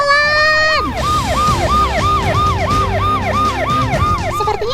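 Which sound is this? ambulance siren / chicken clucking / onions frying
ambulance siren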